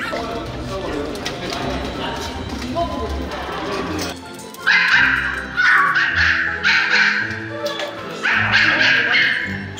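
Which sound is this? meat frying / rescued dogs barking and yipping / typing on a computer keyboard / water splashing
rescued dogs barking and yipping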